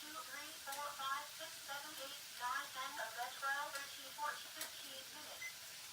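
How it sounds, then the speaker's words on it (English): Onions sizzle in a frying pan on medium heat for a split pea soup, a soft steady frying hiss with faint crackles and occasional light ticks, quiet and close. "I've got my frying pan to medium. Stir your onions up every so often."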